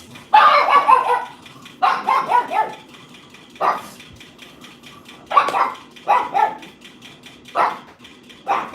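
A single dog barks in short, loud bursts close by, several separate volleys with quiet gaps between them, the later barks briefer and sharper.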